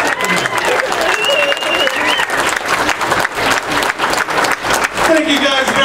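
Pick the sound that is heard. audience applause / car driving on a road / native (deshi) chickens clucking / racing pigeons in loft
audience applause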